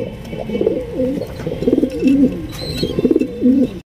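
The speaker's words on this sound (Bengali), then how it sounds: "এখানে রয়েছে আরো একজন আফসান গিজের রেসার কবুতর" Racing pigeons coo close by in a steady, repeated rolling pattern, several throaty calls in a row with light background noise.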